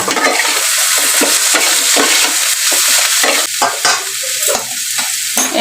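Potato and eggplant frying and being stirred in a pan, a steady loud sizzle broken by repeated scraping stirs throughout, with no talking.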